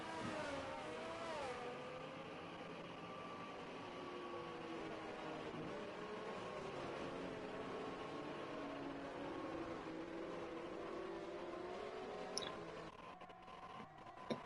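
Race cars in a racing video game accelerate off a safety car restart, several engines whining and rising together in pitch at moderate level, with a brief tick near the end.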